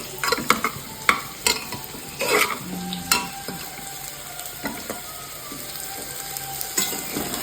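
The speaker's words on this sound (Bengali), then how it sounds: "মাংসের আলুটা ভাজা হচ্ছে" Potatoes for a meat curry fry in a pan, with a soft sizzle under frequent clinks and scrapes of a spatula stirring against metal, the knocks coming in irregular bursts.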